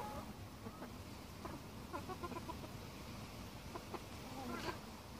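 Allotment chickens, a hen with her newly hatched chick, cluck softly in short, scattered calls over a quiet outdoor background, faint and fairly close.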